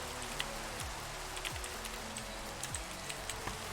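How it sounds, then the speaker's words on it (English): Rain falls steadily in the Minecraft video game, a soft continuous patter with occasional brighter drops, joined by regular low swooping clicks. "And it's raining again."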